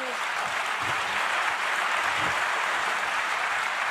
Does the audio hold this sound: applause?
yes